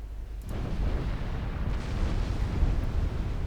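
Mark V 15-inch naval guns fire and land hits in a warship battle game, a dense rumbling roar that swells and holds with deep booming impacts throughout.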